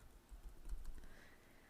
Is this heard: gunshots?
no